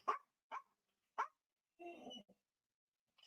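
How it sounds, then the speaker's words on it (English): A dog barks indoors while sitting on a bathroom floor: three short sharp barks in a quick series, then a longer whining yelp and a faint final yip, loud and near with silence between. "he's just sitting on the bathroom floor barking"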